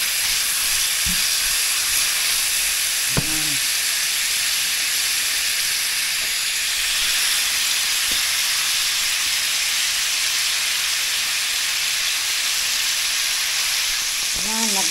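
Garlic frying in a pan for a homemade pork mechado, a steady loud sizzle and hiss throughout, with a few faint clinks and a voice speaking briefly beneath it.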